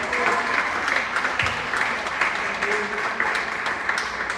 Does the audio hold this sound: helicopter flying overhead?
no